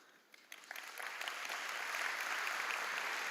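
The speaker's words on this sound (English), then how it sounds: "that's important for you to clap for that number" Applause rises from a graduation ceremony audience held at a prison, starting with a few scattered claps and quickly swelling into a dense, sustained wash of clapping from a sizable crowd at moderate distance.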